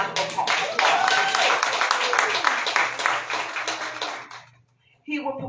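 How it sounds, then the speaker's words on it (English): Audience applause at a Dallas political forum: steady clapping from a crowd, fairly loud and sustained for about four seconds before fading out, followed by a voice starting to speak. "let's give him a big round of applause."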